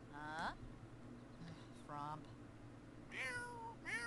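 Cartoonish cat meows from The Sims 4, three short rising-and-falling calls spaced through the clip, heard over a soft game music bed with no talk on top.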